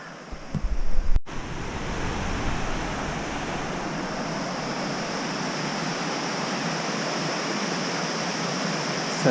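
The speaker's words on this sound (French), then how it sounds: "Ça c'est de la cascade." A waterfall on Yakushima, Japan, roars as a steady, dense broadband rush of falling water, close and constant after a brief handling bump at the start.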